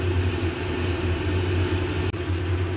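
Soybean pakora frying in a pan over low gas, a steady close hiss and sizzle that holds evenly throughout with no talk.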